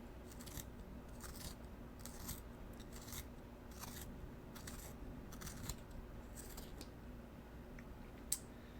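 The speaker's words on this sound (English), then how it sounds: "I used the right sharpener hole, and finish off in the second one" Colored pencil being turned in a small handheld sharpener, giving soft, rapid scraping bursts in an irregular rhythm, close and quiet, ending with a sharp tick.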